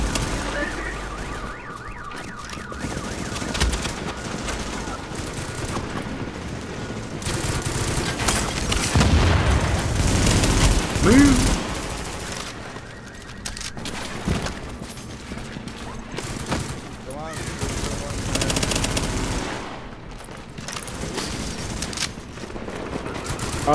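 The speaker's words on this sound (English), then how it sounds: "I'm being shot at, Corey, I'm being shot at." Gunfire in The Division's Dark Zone, a dense mix of shots and bursts running through the whole stretch alongside other game noise, with a voice briefly speaking.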